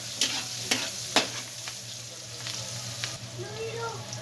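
Onions fry in a pan, giving a steady low sizzle broken by a few sharp spatula scrapes and clacks early on, quiet and close, with a faint voice toward the end.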